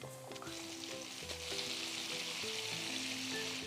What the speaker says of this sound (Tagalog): Bago ilunod, siguraduhin mo nang mainit ang mantika